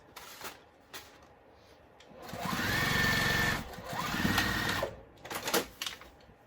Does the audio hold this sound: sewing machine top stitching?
yes